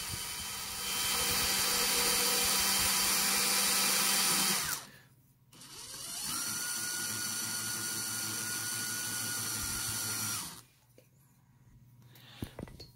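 A spinning brush motor's commutator is dressed with a cleaning stone, giving a loud, high motor whine with grinding. It runs for two long bursts with a short pause between, then stops.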